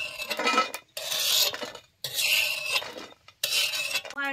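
A metal utensil scrapes roasted coconut out of a pan over a wood-fired stove during mutton sukka preparation, with four rough scraping bursts separated by brief pauses.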